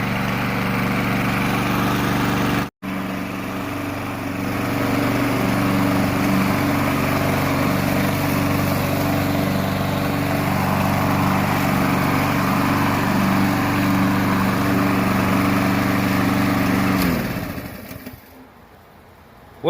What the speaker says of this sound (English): just wanted to show you that the pimped out purple push mower works.